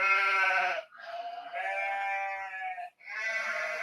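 Sheep give three long, loud, wavering bleats close by, separated by short breaks, with nothing else audible.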